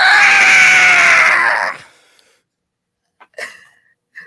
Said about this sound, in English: We hear a demonic screech.